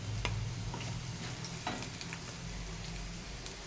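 Turmeric and chili powder being stirred into a sizzling aloo paratha potato filling in a pan, with a steady fry hiss and occasional scraping clicks of the spoon, close and continuous.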